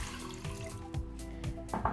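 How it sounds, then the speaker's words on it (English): Water poured into a pot sitting on a stove over medium heat, a steady liquid splashing and trickling with a few sharper drips and clinks, close and fairly quiet. "I have a pot here on medium, and I'm going to add 1 cup of water."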